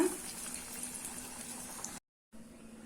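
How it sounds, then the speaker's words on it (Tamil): Water heats in a pan on the stove for cooking banana flower, giving a faint, steady hiss with a soft low hum that drops out briefly before resuming. "வாழைப்பூ வேக வைக்கிறதுக்கு நான் கொஞ்சமாக வந்து பேனில் தண்ணி ஊற்றி வச்சுருக்கேன்"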